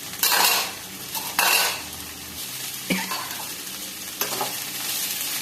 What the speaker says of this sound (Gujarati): એને આપણે ખુલ્લા અહીંયા 2 થી 3 મિનિટ એને આપણે શેકાવા દઈશું